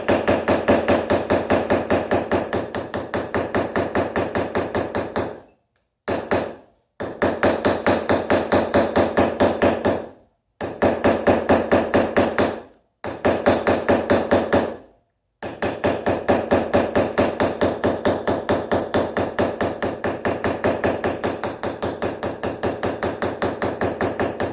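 A hammer taps a chasing chisel along a line in steel while the chisel is rolled to cut a curve, a fast, steady and even stream of close, sharp metallic strikes broken by a few short pauses.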